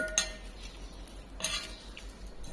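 Radish paratha stuffing is mixed in a bowl with a few quiet metallic clinks and a soft scrape of a spoon against the dish, heard close in a calm room.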